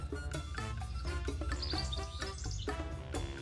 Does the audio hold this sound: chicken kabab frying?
no